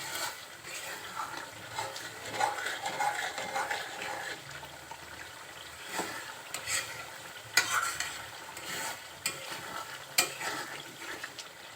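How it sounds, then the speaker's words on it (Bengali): Tripe curry is stirred in a pan with scraping spoon strokes over a low, steady sizzle, close by, with a few sharper clinks. "এভাবে আবার ভালো করে নাড়াচাড়া দিবেন যাতে নিচে লেগে না যায়"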